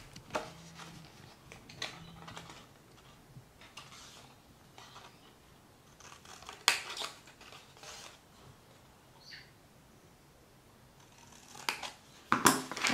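Scissors cut paper squares for an exploding box craft, giving scattered soft snips and papery rustles with a few sharper clicks and handling knocks at close range, quiet overall and with no voices.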